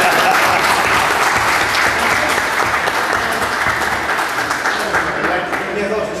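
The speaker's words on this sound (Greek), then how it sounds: "Ας χειροκροτήσω ακόμα." A crowd applauds warmly at the awards ceremony of a mini sprint track day at the Rodos tuning circuit in Aponomes, with dense, sustained clapping that tapers slightly toward the end.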